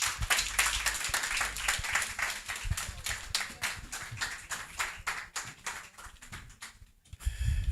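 Audience applause at a live-streamed insurance agency event, a steady, dense patter of many hands clapping close by, fading slightly before a short pause near the end.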